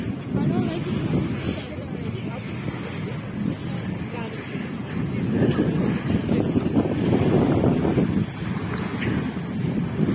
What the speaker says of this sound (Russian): Ветер сильный дует.